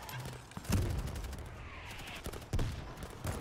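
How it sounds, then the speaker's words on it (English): Rapid machine gun fire in the zombie shooter World War Z, a dense crackling barrage running throughout with heavier bursts standing out, set against the din of a chaotic battle. "Machine gun on the left."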